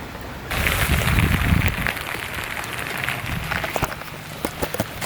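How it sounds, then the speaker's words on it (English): Rain begins falling in an outdoor yard, a steady broadband patter on surfaces with a few sharper drips and drops, moderately close, with low rumbling noise early on and no talking. "The rain has officially started."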